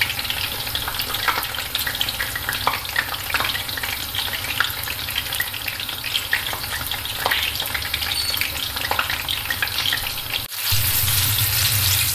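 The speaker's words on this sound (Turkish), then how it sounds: "Gördüğünüz gibi patlıcanlarım kızardı." Eggplant slices fry in hot oil, giving a steady, loud, dense sizzle that crackles continuously throughout, briefly dipping near the end before resuming.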